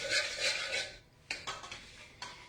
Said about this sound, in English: I'm using 1/3 cup of Amul fresh cream. Okay, so I'll just give it a whisk.